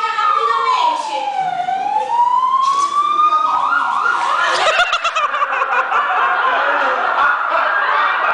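An ambulance siren sweeps down and back up in pitch, then continues wailing loudly and close by for several seconds as the vehicle arrives, with other noise underneath.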